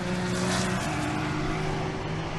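Vintage race cars at the Mitty 2019 race roar past in a continuous loud drone, steady engine tones shifting pitch slightly as the field goes by, with no talk over it.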